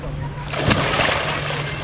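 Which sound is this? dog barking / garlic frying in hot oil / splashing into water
splashing into water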